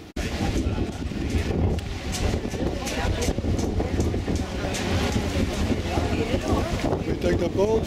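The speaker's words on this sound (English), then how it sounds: "We take the boat for Murano" A boat's engine drones steadily beneath heavy wind buffeting and splashing water, continuous and loud throughout, on the crossing from Venice to Murano.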